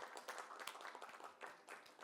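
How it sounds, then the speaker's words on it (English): Audience applause at a conference panel discussion welcoming panelists to the stage: dense, steady clapping from a crowd, fairly faint and continuous throughout with no talking. "Put your hands together in a massive round of applause for Mr. Shubham Kashyap"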